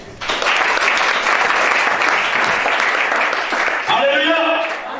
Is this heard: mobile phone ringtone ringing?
no